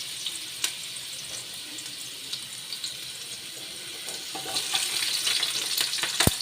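Ginger and onion frying for shabu-shabu, a continuous bright sizzle with occasional clicks and taps, swelling louder and busier toward the end.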